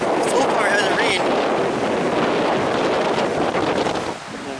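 Strong wind roars steadily across the microphone on the shore of Lake Superior under a darkening sky, a loud unbroken rushing that eases slightly at the end.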